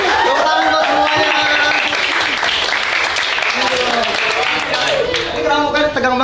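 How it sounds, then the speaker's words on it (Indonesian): Applause from a room of high school students greeting visiting gamers in a classroom, clapping mixed with cheering voices and chatter over a continuous crowd roar. "Tepuk tangan buat semuanya."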